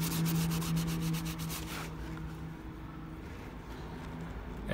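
A dry rag wiping a reconditioned leather gun holster, brisk rhythmic rubbing strokes close up that slow into a softer continuous scuffing.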